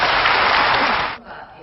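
Applause from lawmakers in a parliamentary chamber, a dense burst of many hands clapping that is loud at first and then drops off sharply near the end.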